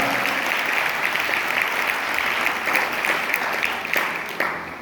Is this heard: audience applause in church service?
yes